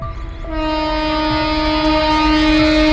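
A train pulls into a station in a cartoon horror tale of a landowner's late evening arrival. A low rumble gives way after half a second to a loud, sustained horn tone that holds steady to the end.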